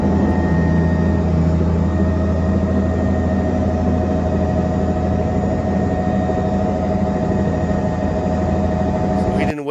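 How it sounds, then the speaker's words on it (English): A rescue helicopter flies over flooding with a loud, continuous engine and rotor roar that holds steady for about ten seconds, overlaid by a broad mechanical drone. "Here's Gary Haven up in his copter trying to save people."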